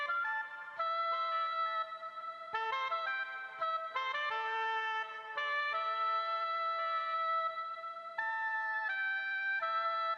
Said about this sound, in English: Then I used another brass sound by Mellotron and did a counter melody just to give it that feeling of jazz again.